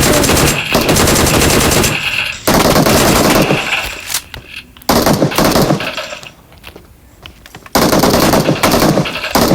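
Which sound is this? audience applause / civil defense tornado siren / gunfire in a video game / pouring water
gunfire in a video game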